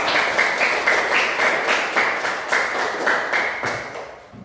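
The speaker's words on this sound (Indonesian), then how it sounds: "Tepuk tangan." A group of schoolchildren clapping hands in a classroom, a dense steady round of applause with regular rhythmic claps, loud and close, fading slightly toward the end.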